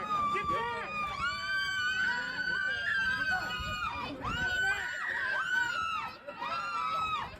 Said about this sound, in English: screaming like they're the victims